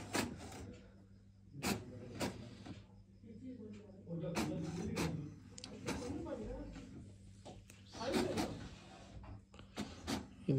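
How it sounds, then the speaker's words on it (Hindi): An HP Ink Tank GT5810-series printer runs a text page, giving a soft mechanical whir with repeated clicks and brief feed rattles at moderate distance. Someone talks quietly over it. "अभी इसमें एक टेक्स्ट प्रिंट आएगा, टेक्स्ट प्रिंट अभी करके देखते हैं अपन"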